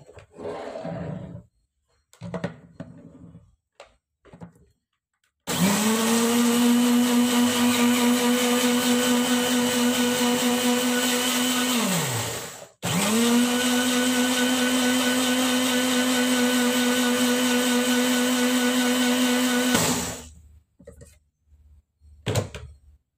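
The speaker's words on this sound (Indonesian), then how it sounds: "Kemudian bahan ini kita blend atau kita haluskan." An electric blender grinding skincare ingredients with a little water runs loud in two long bursts with a brief stop between, a steady motor whine and roar, with short handling knocks and clatter before and after.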